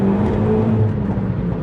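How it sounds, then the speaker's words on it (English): Renault Megane R.S. Trophy R hot hatch with a lightweight stripped-out chassis and Akrapovic exhaust, accelerating with a steady, loud engine drone and a slight dip partway through the short burst. "the noises from the Akrapovic exhaust"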